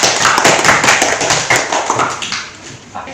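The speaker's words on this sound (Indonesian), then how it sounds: "kita beri aplaus" Classroom applause for a presenting group: a short burst of many hands clapping together, loud and close, fading out after about two and a half seconds.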